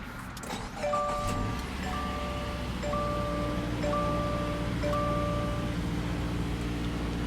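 A 2017 Subaru Outback Limited with a 2.5 L four-cylinder starts by push button. A low steady engine rumble comes in after a moment, and a dashboard chime repeats over it about once a second, with no voices.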